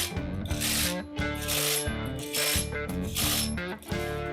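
A ratchet snugging the flywheel bolts on a 572 Hemi engine, heard as loud, close bursts of rapid metallic clicking in repeated strokes, each separated by brief pauses, with no talking.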